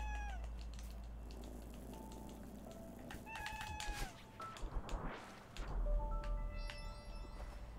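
Inside the video game Geometry Dash, a cat meows in several short, tonal calls among bright synthetic jingles and chirpy effects, with a few louder bursts toward the middle.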